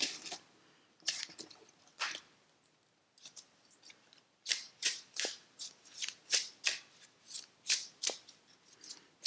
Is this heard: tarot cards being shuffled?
yes